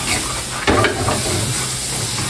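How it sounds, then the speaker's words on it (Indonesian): Tempoyak fried with langi in a small amount of oil, a steady loud sizzle and hiss, with a sharper burst of crackling as the pan is stirred, no talk. "Minyak jangan terlalu banyak kalau kita goreng deh guys ya, sebab langi ini akan mengeluarkan minyak dia sendiri"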